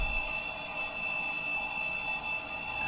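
A steady electronic alarm tone rings continuously at a constant level, high-pitched and unbroken, with a faint hum beneath it.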